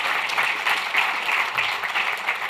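An audience at a plenary meeting in Washington DC applauds, with steady, dense clapping from many hands that stays even and fairly close throughout, with no voices.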